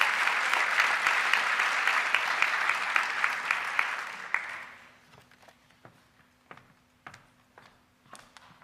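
An audience at an honors ceremony gives a dense round of applause for about four seconds, then it fades to a few scattered claps and taps in a quiet room.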